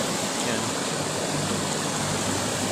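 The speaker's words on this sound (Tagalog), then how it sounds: "yan yung ilog" Steady rushing flow of the Pulunan River in Trece Martires, Cavite, a continuous dense wash of water close by with no pauses or voices.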